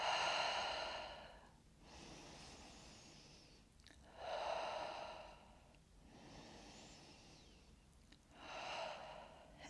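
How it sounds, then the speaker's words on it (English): Slow, deep breaths drawn and released during a seated chair yoga practice, each airy inhale and exhale rising and fading in a steady, unhurried rhythm, close and soft in a quiet room. "3 breaths."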